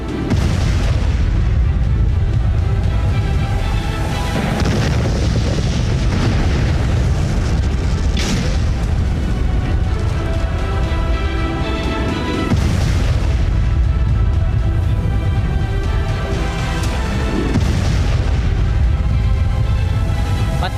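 Bomb explosions and artillery fire in a war sound effect: dense, continuous heavy booms and rumbling blasts, loud and close, with repeated deep impacts layered over a constant roar for about twenty seconds.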